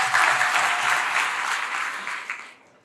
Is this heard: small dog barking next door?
no